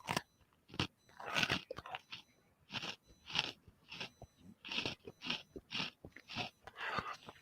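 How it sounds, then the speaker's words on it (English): Crunchy chewing of pretzels close to the mic, a steady series of sharp crisp bites and crunches with short pauses between, loud and dry with no talking over it. "Excuse my chewing. My show, having a pretzel or two."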